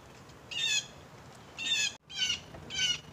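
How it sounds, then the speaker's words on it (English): Four harsh, raspy blue jay calls ring out outdoors at moderate distance, spaced about a second apart over faint background bird song and wind. "you should be able to hear the blue jays yelling"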